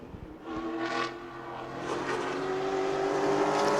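A pro late model race car laps New Smyrna Speedway during qualifying, its engine note rising and sharpening as it approaches and passes, loud and growing nearer toward the end.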